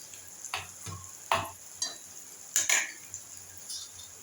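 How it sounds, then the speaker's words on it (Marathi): Tomatoes being sautéed in a pan for a wild-vegetable kantoli and val bean curry, with a few soft sizzles and separate scrapes and clinks of a spoon stirring against the metal pan, spaced unevenly and fairly close. "1 ते 2 मिनिटं परतून घ्यायचा आहे टमॅटो."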